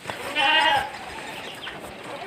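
Goats bleating in a pen on a large goat and sheep farm, one loud nearby bleat followed by fainter calls against a busy farmyard background.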